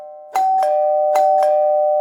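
A doorbell rings twice in a row, each a bright two-tone ding-dong chime, clear and close, with the tones lingering afterward.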